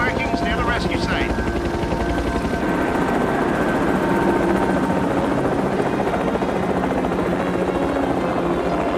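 A helicopter in a 1995 TV thriller drones steadily and loudly throughout, its rotor rumble filling the scene while faint radio-style speech sits beneath it.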